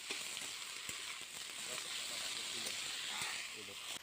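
Bottle gourd leaves with green chillies, salt and a pinch of turmeric fry in a pan, giving a steady broadband sizzle and hiss throughout with a few faint pops.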